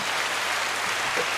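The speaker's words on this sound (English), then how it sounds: "give her some applause" Steady applause from a live audience at a discussion event, a dense continuous patter of clapping, fairly loud and unbroken throughout, with no talk over it.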